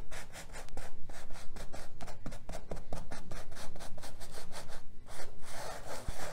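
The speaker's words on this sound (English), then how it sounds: "I'm just going to gently and carefully scrub off my wall side of my stencil" Rhythmic back-and-forth scrubbing of paint from the wall side of a stencil, a close, brisk scratching stroke repeated evenly several times per second with a short pause near the end.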